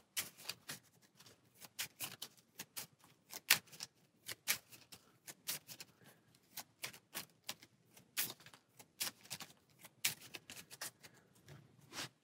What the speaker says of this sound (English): the remaining three cards are going to get shuffled into the encounter stack